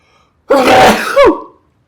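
A single loud, close human sneeze with a sharp intake and explosive burst, alone in quiet.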